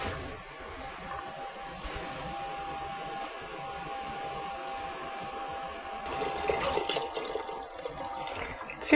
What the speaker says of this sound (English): The next step is to add 4 cans of chicken broth.